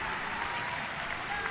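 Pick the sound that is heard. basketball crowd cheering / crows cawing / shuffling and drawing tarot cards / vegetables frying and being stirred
basketball crowd cheering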